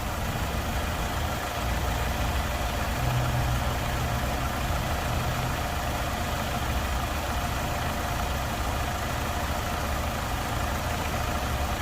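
A 2007 Chevrolet Optra 1.6 LS with manual transmission idles steadily, a smooth low engine hum running continuously without revving, nearby and alone.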